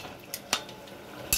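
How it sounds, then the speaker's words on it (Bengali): A spatula or spoon stirs chicken filling with chilli powder in a metal pan, making three sharp scraping clicks against the pan over a faint background hiss. The sounds are close and there is no talk. "একটু ভালো করে সব নেড়ে চেড়ে নেব।"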